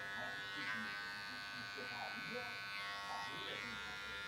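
Electric hair clippers with a guard comb buzz faintly and steadily through a social haircut, partly under a person talking.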